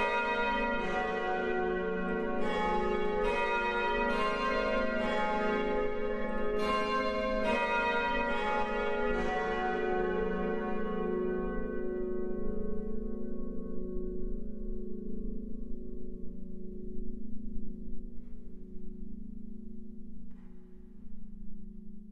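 Italian church bells in a Roblox bellringing game strike in a rapid sequence of bright, ringing tones for several seconds, then the full hour chime's deep hum is left to fade slowly into near silence.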